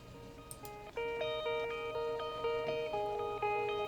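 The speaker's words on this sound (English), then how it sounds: "And then we also have this high guitar part here as well." A high guitar part with steady held and repeating notes that shift in slight variations, sitting at a constant level within a layered, reverb-washed track breakdown, with no talking.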